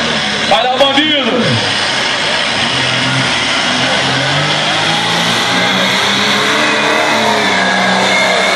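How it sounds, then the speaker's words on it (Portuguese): Pulling tractor engine revving hard at a trekker trek pull event with a 3400 kg tractor, a loud sustained roar climbing in pitch, with a crowd shouting and cheering over it. "O trator bandido!"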